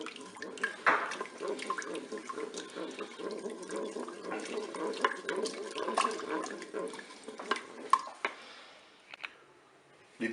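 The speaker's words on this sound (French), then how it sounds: "on va épaissir la sauce avec notre cuillère à soupe de maïzena diluée dans l'eau" Cornstarch diluted in water is poured into sauce inside a Cookeo multicooker, giving a continuous wet trickle and dripping that thins and tapers off toward the end.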